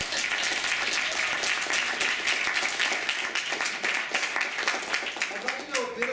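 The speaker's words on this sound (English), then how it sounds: "So I think Sarah deserves a round of applause." An audience at a lecture on LGBTQ studies applauds, a full and steady round of clapping from a sizable crowd that carries on through the whole stretch, with some voices mixed in.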